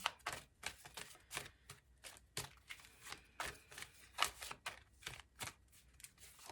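Tarot cards being shuffled by hand, a quick uneven series of crisp riffling bursts, about a dozen in a row, close and fairly quiet with no talking.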